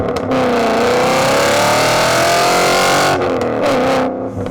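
A BMW E39 M5 or E60 M5 engine revs hard through its exhaust, a loud, close, sustained roar climbing in pitch and easing off near the end, with no talking over it.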